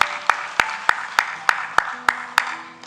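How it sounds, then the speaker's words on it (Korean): Church congregation clapping together in a steady unison beat, nine sharp claps evenly spaced, close and clear over a soft sustained organ or keyboard tone. "우리 영광의 박수로 함께 화답하겠습니다"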